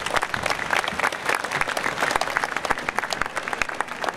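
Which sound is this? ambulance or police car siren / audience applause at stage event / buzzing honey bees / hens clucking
audience applause at stage event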